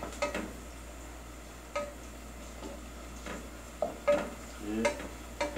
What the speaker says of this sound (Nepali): प्याज को हिला रहा हूँ